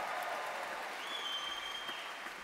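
Sustained applause from a concert audience for the Sydney Symphony Orchestra, a dense, even wash of many hands clapping at once, heard from a distance and fairly soft throughout.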